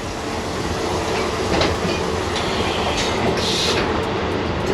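A Vande Bharat Express chair car train runs steadily on the rails between Dehradun and Delhi, with a loud, continuous rumble and faint wheel clatter heard from inside the coach, plus a few brief higher squeals.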